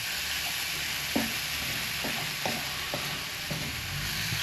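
Chicken stir-fry sizzles steadily in a pan with a splash of soy sauce, a constant hiss broken by a few soft scraping stirs.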